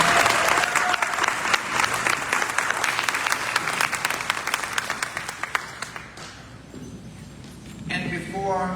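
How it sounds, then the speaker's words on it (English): Loud, sustained applause from a large crowd fills a 2025 Veterans Hall of Fame induction breakfast at LCHS, then thins out and fades, with a voice returning near the end. "Please give them all a round of applause."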